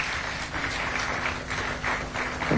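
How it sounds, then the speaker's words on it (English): Audience in a conference hall clapping as a speaker walks on stage, a brief, moderately loud wash of applause with uneven rhythmic pulses. "Please clap until he joins me here."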